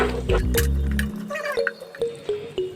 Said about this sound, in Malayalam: ഇതിലേക്ക് ഒരു 200 തൈര് കൂടി, നല്ല കട്ടിയുള്ള തൈര്, പുളിയുള്ള തൈര് ഒഴിച്ച് കൊടുക്കാം